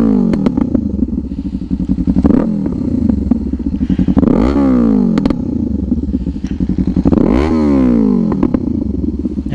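Kawasaki Ninja 500 with an SC Project open pipe exhaust idling with a loud, throaty burble, then revving in two sharp blips with popping backfire crackle, close by.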